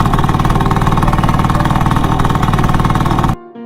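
A scooter engine runs loud and close with a steady, rapid pulsing putter, then cuts off abruptly near the end, leaving near silence.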